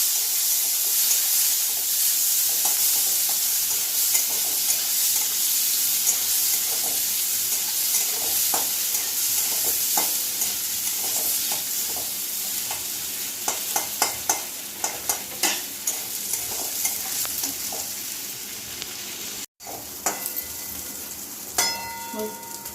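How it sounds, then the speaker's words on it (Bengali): Chicken sausage rings fry in oil in a pan, a continuous soft sizzle with occasional stirring scrapes and clicks growing more frequent toward the end, and no talking. "আমি সসেসগুলো একটু ভেজে নেব হালকা করে"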